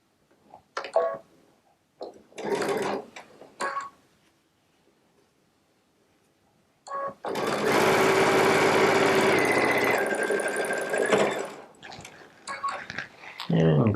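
A Baby Lock Solaris sewing machine piecing fabric with a 1/4" piecing foot, short bursts of stitching followed by a longer steady run of several seconds, close and clear, then a few brief stops and starts.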